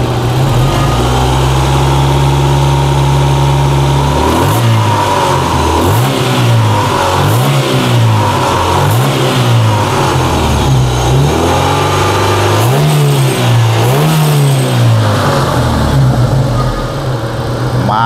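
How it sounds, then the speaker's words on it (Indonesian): A modified Opel Blazer with a semi-open rear exhaust idles loudly, then revs repeatedly in short, rhythmic throttle blips, each swelling and dropping back to a rough, throaty idle. "kita coba kita gas-gas langsung dari ruang mesin agar kita mengetahui kondisinya seperti apa"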